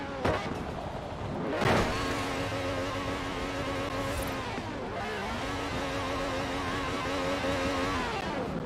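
Car engines drone and rev continuously in a video game, a steady buzzing whine with rising and falling pitch and no talking.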